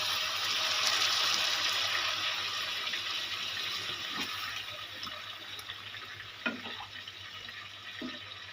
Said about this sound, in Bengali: এবার আমি দিয়ে দেবো পরিমাণ মতন জল